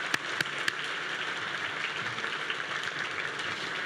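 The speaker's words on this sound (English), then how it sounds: "Let's give our City Council a round of applause" Faint, distant applause for a city council at a State of the City address, a soft steady hiss of many hands with a few sharper claps near the start, heard alone at low level.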